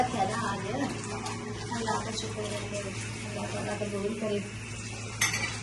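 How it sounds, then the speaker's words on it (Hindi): Dishes, pots and pans are washed in a home kitchen, with steady running water and the clatter and scrape of utensils going on throughout. "अब मामा इधर बर्तन धो रही हैं"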